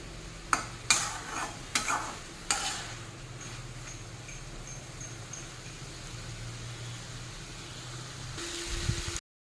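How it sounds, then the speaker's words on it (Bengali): Vegetable chorchori of bitter gourd, leafy greens, sweet potato, eggplant, potato and lentil dumplings stirred over a high flame: a few sharp utensil knocks at first, then a steady close sizzle with soft scraping until it stops. "এবারে উপরটা নিচে, নিচটা উপরে করে নাড়িয়ে দেবো।"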